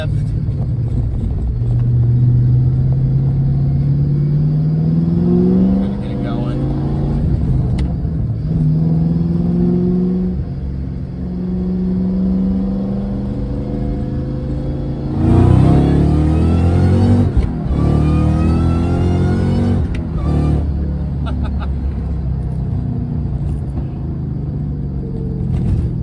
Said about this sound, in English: the exhaust has all the pops and burbles that you would want from a fast car